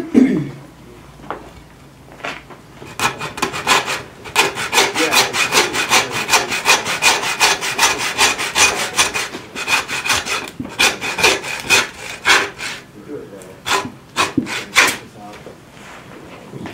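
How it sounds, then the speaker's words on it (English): A hand saw cuts through a pig carcass during butchering, its quick back-and-forth strokes rasping loud and close in a steady rhythm with a few short pauses, after a brief quieter start. "And it's not that much sawing."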